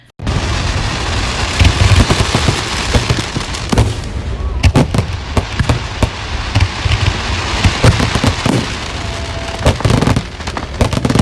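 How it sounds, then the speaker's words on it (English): A fireworks display with dense, loud bangs and crackling bursts that follow one another almost without pause, some sharp reports standing out above a continuous rumbling wash. "I just got back from watching fireworks."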